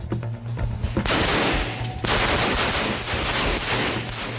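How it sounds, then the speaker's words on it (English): Soldiers fire live rounds during shoot-house training, a rapid string of sharp, loud gunshot bursts that crack back to back and echo off the walls. "The use of live rounds keeps the training real, teaching the soldiers to concentrate despite the noise and smoke."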